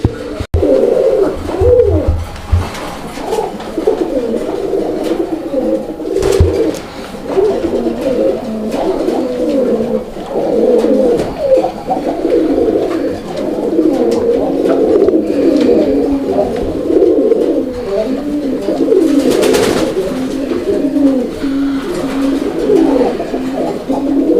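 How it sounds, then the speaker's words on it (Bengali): Domestic pigeons of a Raj-Golla breed, kept in a loft for sale, coo continuously in overlapping throaty rolls, close and steady throughout with occasional wing flutters and no talking. "ইভেন অনেক ডাকের একটা কবুতর"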